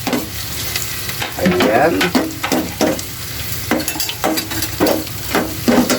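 Green chili peppers being stir-fried in a pan, a loud, close sizzle punctuated by repeated rhythmic scraping strokes of stirring, with a brief spoken word.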